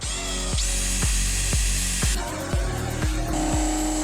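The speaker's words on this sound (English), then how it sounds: "I'm just gonna buzz in a hole there" A power drill with a hole saw grinds steadily through a Ford Transit van door, loud and close, with a rhythmic thumping chatter roughly twice a second.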